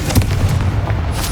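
A Confringo blast spell cast in Hogwarts Legacy bursts out as a single loud, booming explosive hit with a short rumbling tail, close and alone.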